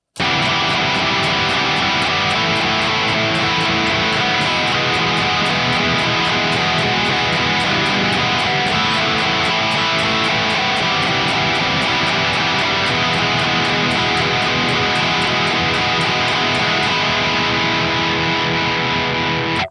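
An electric guitar with heavy distortion strums a beginner arrangement of a song, loud and sustained chords ringing steadily for the whole stretch without a pause.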